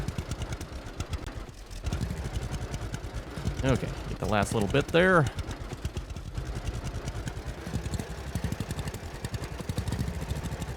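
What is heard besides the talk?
tractor engine in video game Farmer's Dynasty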